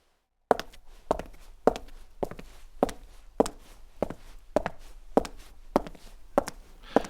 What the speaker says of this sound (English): Notice how the close sound play after the footsteps, especially when she's moving slowly for a realistic sound.